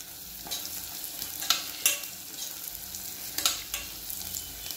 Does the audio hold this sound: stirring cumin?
yes